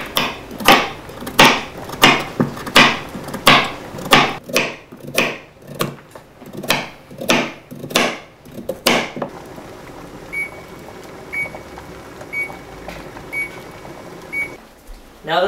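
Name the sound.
chopping carrots with knife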